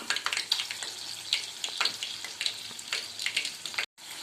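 Battered green chillies (mirchi) fry slowly in oil over a low flame, giving a steady close sizzle with soft bubbling crackles throughout, ending in a brief cut to silence.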